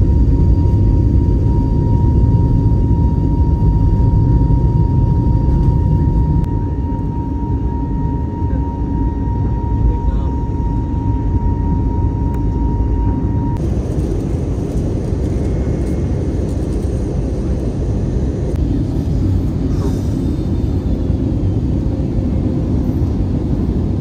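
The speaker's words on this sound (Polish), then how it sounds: "Jesteśmy już w samolocie." Steady broadband cabin drone of an airliner interior on a flight to Zanzibar, a continuous loud engine and air rumble with a faint tonal hum, no one speaking.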